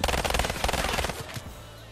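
Rapid automatic gunfire rattles in a video game arena match, a tight burst of repeated shots lasting just over a second before cutting off.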